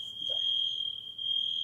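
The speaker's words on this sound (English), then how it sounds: "I think that's the fire alarm or something." A fire or smoke alarm sounds a steady, piercing high-pitched electronic tone that holds almost unbroken, moderately loud, over a quiet room with no talking.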